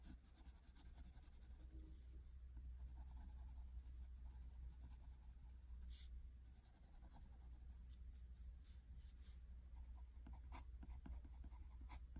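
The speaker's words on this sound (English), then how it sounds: "Now let's go back using our 6B pencil." A soft 6B graphite pencil scratches dark lines onto drawing paper in continuous, faint strokes with a steady hiss throughout, alone with no talk.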